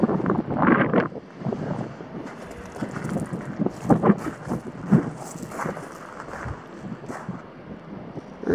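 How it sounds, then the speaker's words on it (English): Outdoor wind buffeting the microphone beside a 2019 Swift Escape 614 motorhome on a Fiat base, with gusty low rumbling bursts rising and falling irregularly and no talking. "it's getting windy out here"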